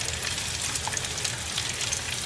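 Vegetables for borscht frying in a pan, a steady close hiss and crackle of sizzling oil that holds even throughout, with no voices.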